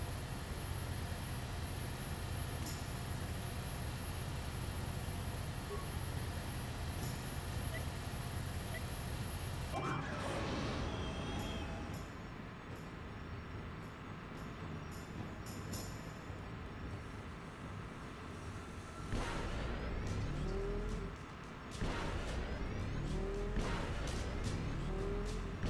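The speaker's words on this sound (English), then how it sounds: "It's pod racing time." Pod racing engines in the video game Star Wars Knights of the Old Republic roar continuously, with sharp whooshing pass-by sweeps partway through and again near the end.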